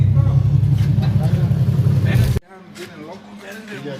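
Infiniti G37xs sedan with a full straight-pipe exhaust and high-flow resonator, engine running loud and deep for about two seconds before cutting off abruptly, with people talking over it and afterward.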